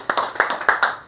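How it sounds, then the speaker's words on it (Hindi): A handful of people clap at a tunnel safety training session, about six distinct, fairly loud claps in an uneven rhythm, close by and otherwise quiet. "वाह भाई वाह, बहुत बढ़िया, ज़ोरदार तालियां भाई"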